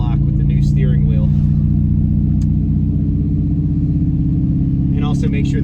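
A C5 Corvette fitted with a new carbon fiber steering wheel rolls around the block, its engine a steady low rumble and drone that fills the whole stretch, with brief voices talking over it near the start and end.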